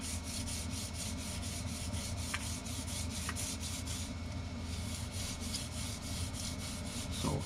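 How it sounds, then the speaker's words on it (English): Sandpaper is worked lightly by hand over a polyurethane top coat on a Warmoth Jazzmaster guitar build, producing a faint, steady rubbing hiss that continues evenly throughout. "So you're just doing some very light sanding"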